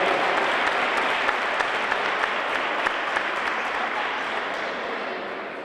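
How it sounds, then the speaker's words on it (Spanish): An audience gives strong applause for a cadet-category futsal team at a club signing event; dense, steady clapping throughout, loud and close, slowly easing near the end. "Un fuerte aplauso."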